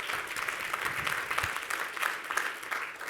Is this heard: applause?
yes